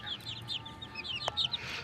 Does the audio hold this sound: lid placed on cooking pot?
no